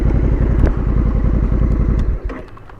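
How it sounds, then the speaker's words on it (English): A Honda Africa Twin CRF1100L Adventure Sport DCT motorcycle riding off-road, its engine chugging with a steady pulsing beat close by before the sound abruptly drops away, leaving a quieter tail. "the Honda Africatwin CRF 1100L Adventure Sport DCT"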